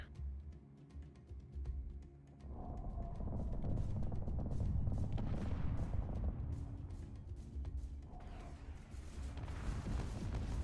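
Ship turrets fire in Space Engineers during a PvP tournament match, producing continuous heavy booming and rumbling volleys that swell and overlap, with brief lulls and then renewed loud fire.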